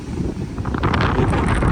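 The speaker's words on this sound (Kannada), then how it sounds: "ಏನು ಗಾಳಿ" Gusting wind buffets the microphone in the densely forested hills of Charmadi Ghat near a small waterfall, a steady roar that swells louder partway through, with no voices.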